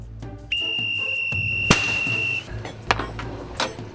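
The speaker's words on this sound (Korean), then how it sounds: "호루라기와 뻥튀기의 돌림 노래가 요란합니다." A long shrill police whistle blast cuts in, ending with a sharp loud bang from a rice-puffing machine, followed by a few smaller knocks and thumps nearby.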